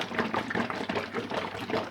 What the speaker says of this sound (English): Pour it in the pan.